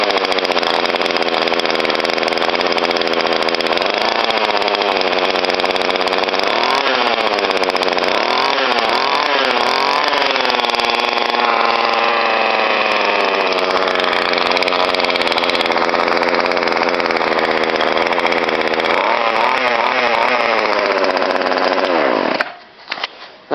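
Small motorized bike engine running loud and close, a buzzing two-stroke-like drone with repeated revving swells and falls before cutting off abruptly near the end.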